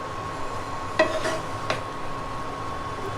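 Kushi with coconut stirred in a pan, a steady low sizzle broken by two or three sharp clinks of the spoon against the pan, close and without talk.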